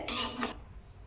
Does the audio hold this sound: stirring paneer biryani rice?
yes